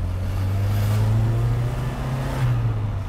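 A turbocharged car engine idles and revs with a deep steady drone, a faint rising whistle of turbo spool briefly surfacing near the start and again near the end, loud and close.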